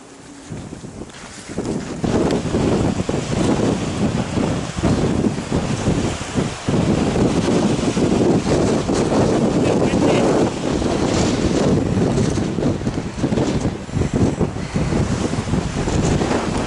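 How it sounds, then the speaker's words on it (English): Strong mountain wind on the Pacific Crest Trail buffets the microphone in a constant, roaring rush that hardly lets up, loud and close, with no other sounds standing out. "Windy."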